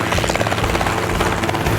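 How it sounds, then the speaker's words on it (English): A helicopter arrives over a paddock in rural North Queensland, its loud, steady rotor chop and engine drone continuous and close throughout, with no talk. "the chopper's finally arrived."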